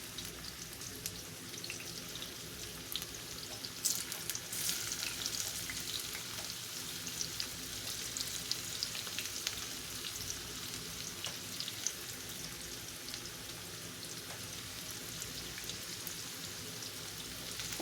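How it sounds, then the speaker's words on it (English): Home-canned potatoes frying in hot oil, a faint, steady crackling sizzle like light rain that continues evenly throughout, with scattered pops and no talk. "The reason you dry your potatoes off is because you don't want that hot oil popping into your face."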